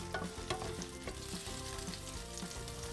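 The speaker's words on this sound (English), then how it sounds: "So now the oil is hot and I'm going to put some fresh jalapenos" Fresh jalapenos frying in hot oil for a green shakshouka give a steady, close sizzle with light stirring taps, the crackle holding continuously without any voices.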